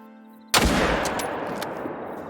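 One loud rifle shot fired at a whitetail buck for a heart shot in Call of the Wild, a sudden crack after a quiet moment that trails off into a lingering echo.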